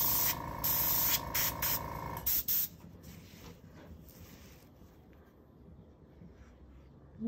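Airbrush driven by an air compressor sprays alcohol ink, giving a loud steady hiss in bursts for about two seconds before fading to a quieter, softer hiss with no talking.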